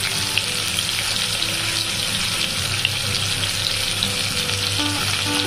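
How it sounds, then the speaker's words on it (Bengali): Potatoes fry in oil in a pan before a chicken dish, giving a loud, constant crackling sizzle close by. Faint, watery splashing runs through it, with no talking. "তো এখন আলুগুলো ভেজে নিই"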